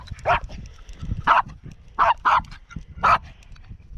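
A dog gives several close, loud barks and yips in an irregular sequence, about five distinct outbursts over a few seconds, with quieter grunts and whimpers between them at a campsite.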